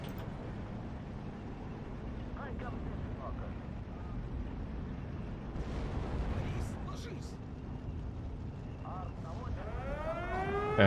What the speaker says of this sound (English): Gonna do another barrage here.